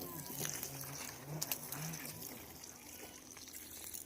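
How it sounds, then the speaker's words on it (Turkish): A garden hose runs over a village vegetable garden, a steady splashing and trickling of water with small gushes, heard close and fairly soft, with faint voices murmuring in the background. "Hortum ile bahçe sulama işlemimiz tamamdır."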